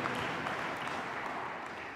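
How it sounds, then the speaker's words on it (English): A church congregation claps hands together during a worship service, a dense, steady wash of applause filling the whole two seconds at fairly close range, with no clear talk over it. "Clap your hands."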